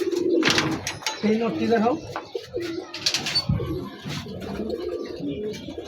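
Pigeons coo in a mixed coop, several soft rolling calls overlapping near the microphone while someone talks over them.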